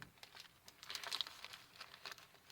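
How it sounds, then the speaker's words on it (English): An old, used cellophane bag crinkles softly close by in short irregular bursts of crackling over about two seconds, with quiet gaps between them. "Just take a used, old, recyclable piece of cellophane bag,"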